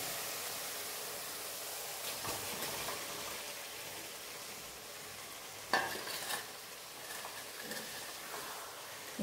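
Elephant foot yam pieces stir-fry with masala in a pan, a soft, fairly faint continuous sizzle with occasional scraping stirs, one sharper knock partway through, and no talking.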